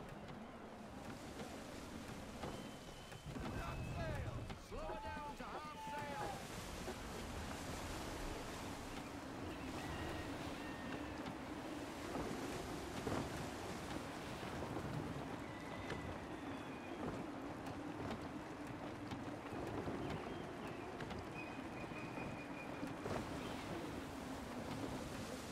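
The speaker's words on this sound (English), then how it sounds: "Gusty winds can be difficult to manage." Gusty wind and rolling waves surround a sailing ship in Assassin's Creed III, a steady moderate whoosh of wind and surf with creaks and faint voice-like calls early on.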